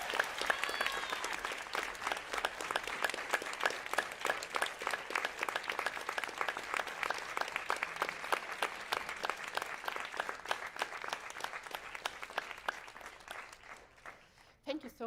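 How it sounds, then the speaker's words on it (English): Steady applause from an audience at an evening community meeting, dense and continuous for about fourteen seconds before tapering off, with no voices over it. "Please give them a round of applause for joining us tonight."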